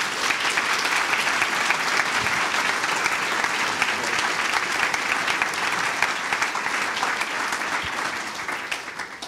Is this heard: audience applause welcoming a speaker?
yes